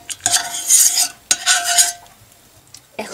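Homemade lemon cough syrup mixture being stirred with a utensil in a pot, pressed lemons inside, giving two long scraping, swishing strokes close up followed by a quiet pause and a brief clink, with no voices.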